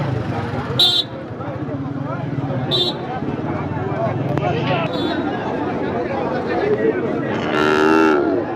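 A cow moos at a busy cattle market before Eid, with one drawn-out low call rising near the end amid constant crowd chatter and brief horn-like toots.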